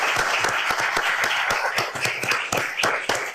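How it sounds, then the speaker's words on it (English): An audience at a forum for two Republican sheriff candidates in Brunswick County applauds, giving crisp, fairly sparse claps from a modest crowd that continue steadily for a few seconds. "Ladies and gentlemen, will you give these candidates a round of applause?"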